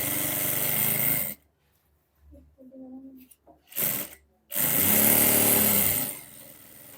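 A sewing machine stitches a kameez seam in two loud, fast bursts of whirring needle action, separated by a pause with a voice talking quietly.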